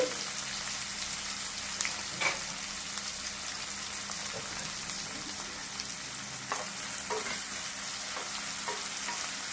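Onions being sautéed in a pan for rava kichadi, a soft, quiet sizzle with light scraping and stirring strokes and a few sharper taps now and then, with no voices.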